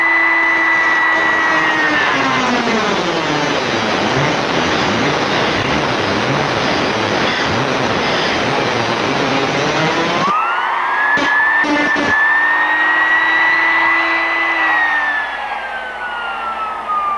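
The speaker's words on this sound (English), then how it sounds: "Since you're doing this with a die grinder, it's not necessary to wait for any cool down time." A die grinder whines loudly and continuously against a lugged steel bicycle frame joint, its pitch sweeping and shifting as the tool bites and eases, then dropping and rising again near the end.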